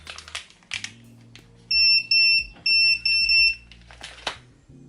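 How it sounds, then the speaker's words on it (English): Prologic BAT Commander fishing bite alarm sounding a series of four loud, shrill electronic beeps in quick succession, each lasting a fraction of a second, close up amid soft handling clicks and rustles. "It's a nice compact lightweight bite alarm"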